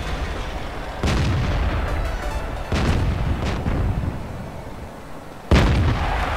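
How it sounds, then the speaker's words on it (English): A tank cannon fires in the World of Tanks video game during a soccer game mode: heavy booming shots burst over a constant loud rumble of engines, with one sharp blast near the end. "It wasn't really needed to fire that shot, but it was in."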